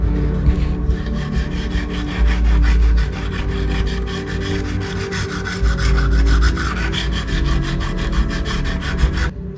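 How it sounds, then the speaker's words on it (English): Sandpaper rasps back and forth over putty on a 1:32 scale plastic UH-1D Huey helicopter model kit, a loud, close, continuous rhythmic scrubbing with no voices. "The putty sanded off."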